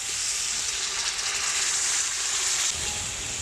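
Water poured into a pan of sizzling home-style desi duck curry made with ground spice paste, giving a loud, steady hiss and sizzle that holds for a few seconds and eases slightly near the end.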